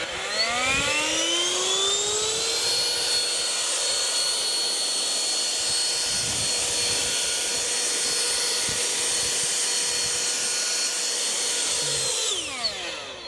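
A Sequoia SBLB4022BT leaf blower blows onto a puddle with a loud, steady jet-like roar. It spins up at the start and winds down near the end, close by and with no talking.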